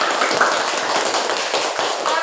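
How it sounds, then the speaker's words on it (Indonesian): A school class claps for a group of students, a dense burst of many hands clapping together, fairly close and continuous. "Beri tepuk tangan dulu untuk kelompok 3"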